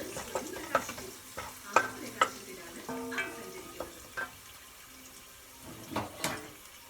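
Curry leaves frying in a pan for a Kerala-style chicken curry, heard as a faint, low crackle. A few sharp spoon knocks and clinks come in scattered bursts as the leaves are stirred.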